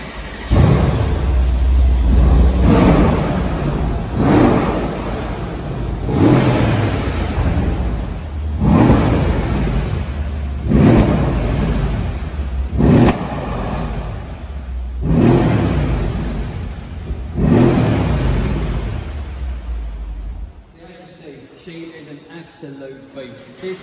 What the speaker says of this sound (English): I'm going to have to start this up because a lot of you petrol heads out there want to know what this car sounds like